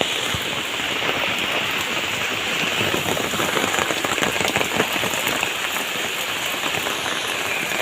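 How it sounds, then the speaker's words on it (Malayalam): Heavy rain falls steadily outdoors, a dense and continuous hiss of drops pattering on surfaces, loud and close throughout with no voices. "നല്ല മഴയാണ്."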